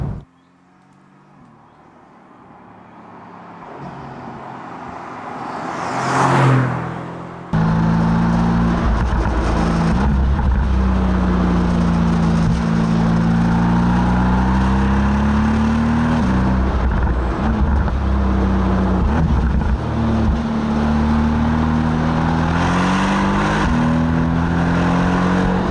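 A Mercedes-AMG GT R Roadster driven along a British B-road, its engine building from a quiet hum to a rising rev, then a sudden loud, steady roar that holds with shifting pitch as the car pulls hard.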